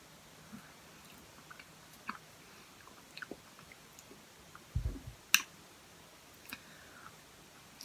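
Someone eating Ben & Jerry's Classic Mix ice cream with quiet, scattered chewing and biting clicks close to the mic, plus a couple of sharper crunches near the end, in a calm room without talk.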